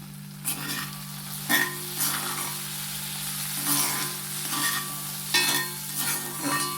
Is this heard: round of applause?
no